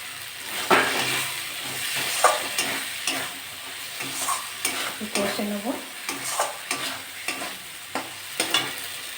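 Tiger prawns frying in a pan with sugar: a steady sizzle runs throughout, broken by repeated scraping strokes of a spatula against the pan and light clinks of metal, close and fairly loud.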